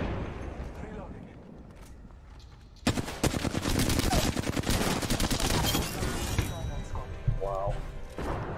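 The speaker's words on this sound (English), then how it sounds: "Throwing thermite grenade." Apex Legends gunfire erupts suddenly, rapid loud bursts of automatic shots and impacts following a quieter stretch, with game voices and sound effects mixed through the fight.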